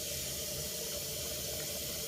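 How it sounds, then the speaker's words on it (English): Water poured into a cooking pot, a continuous even rushing splash throughout, moderately faint and steady. "And I'm going to cover the rest with water."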